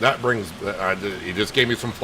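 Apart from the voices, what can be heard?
No everyday noise stands out behind the speech.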